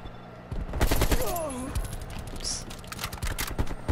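Gold AK-47 assault rifle firing in a video game: bursts of rapid gunshots clatter through the whole stretch with a sharp ricochet-like whine near the start, loud and close, under some faint talking.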